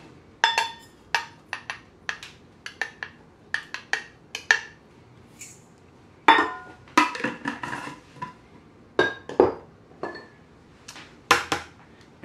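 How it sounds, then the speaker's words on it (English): Cold butter and white sugar being added to a bowl for gluten-free pumpkin pie pastry, a run of sharp clinks and knocks of utensils against the bowl, irregular and close, with no talking. "So you want to start by adding your really cold butter and 3/4 cup of white sugar."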